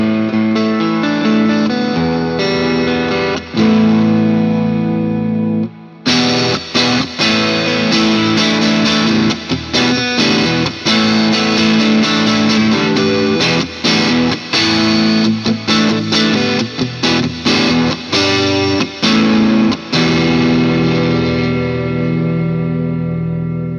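Vintage V6 Icon electric guitar played through the bridge humbucker with a distorted, effects-laden tone, a brief sustained chord then steady strummed rhythm, loud and close with no talking.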